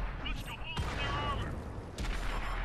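Tank cannons fire in World of Tanks console battle gameplay with an AMX 13 90 firing APCR rounds, giving two sharp booming shots over continuous rumbling engine and battle noise.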